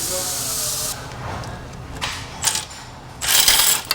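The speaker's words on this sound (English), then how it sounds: "we're gonna take off the axle nut, the 32 mil" Ratchet loosening the 32 mm rear axle nut on a Nissan 350Z, a close, rough clicking and grinding mechanism sound that swells toward the end against a hissy background, with no talk.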